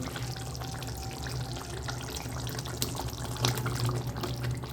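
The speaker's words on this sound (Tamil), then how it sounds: "தண்ணீர் அதில் போட்டுடலாம்" Water is poured into a spicy paneer masala gravy cooking in a pan, giving a continuous close splashing pour with a louder surge near the end.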